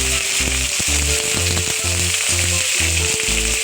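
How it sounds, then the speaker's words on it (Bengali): Cut potatoes sizzle loudly in hot mustard oil in a wok, a dense continuous frying hiss with a regular low rhythmic thumping running underneath, close and without any voices. "আলু ছেড়ে দিলাম এরপর একটু আমি নাড়াচাড়া করে নিচ্ছি"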